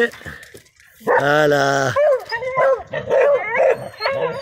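A seven-month-old French hunting dog lets out a long, loud whimpering howl and then a string of yips and barks, close by. Someone speaks French between the cries.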